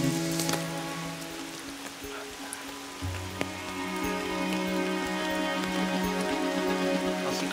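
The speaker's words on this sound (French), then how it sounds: "on va attendre que la pluie soit passée" Steady rain pours down close by, a dense, continuous hiss with scattered sharper drops hitting surfaces throughout, with no voices.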